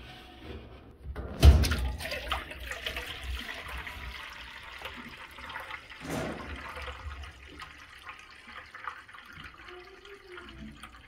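Water gushes and drains steadily from a Maytag front-load washer with no drain or spin, a sudden surge at the start and another swell later, a low rushing flow that gradually eases.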